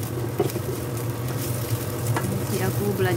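Garlic and onions frying in a pan for mie tek tek noodles, a steady close sizzle with stirring scrapes and small pops running throughout.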